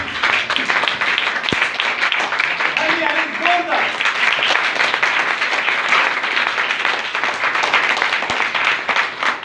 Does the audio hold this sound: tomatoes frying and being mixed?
no